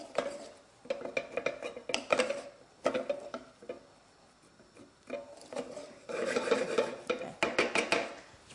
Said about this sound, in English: Stir it around so it's all the same colour.